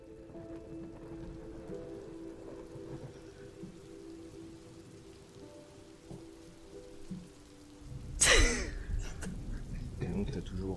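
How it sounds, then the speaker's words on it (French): Rain ambience playing during a tabletop role-playing session of Degenesis, a faint steady patter under soft background sound that swells into a louder rushing burst near the end. "Et donc t'as toujours la pluie qui continue."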